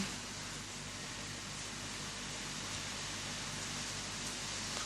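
Heavy rain pouring outside a house, a steady dense hiss of falling water with no breaks, moderately quiet and without speech.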